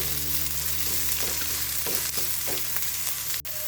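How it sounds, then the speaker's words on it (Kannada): Onion and capsicum fry in a pan with a steady hiss. Soft stirring scrapes recur through it, and a sharp clack sounds near the end. "ಇವಾಗ ಕ್ಯಾಪ್ಸಿಕಮ್ ಹಾಕೊಳ್ಳೋಣ. ಕ್ಯಾಪ್ಸಿಕಮ್ ಕೂಡ ಫ್ರೈ ಮಾಡ್ಕೊಳ್ಳಿ."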